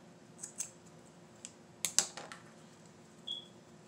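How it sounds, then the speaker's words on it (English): Scissors snipping craft string, a few small sharp snips close by with a brief cluster of quick clicks in the middle, faint against a quiet room with no talking. "Now just cut the string off."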